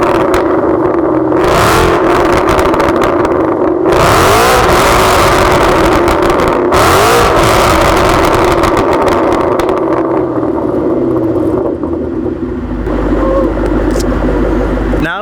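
A loud, deep Ford Mustang GT engine rumbles steadily, swelling into several throaty revs with a roaring exhaust, close by and continuous throughout.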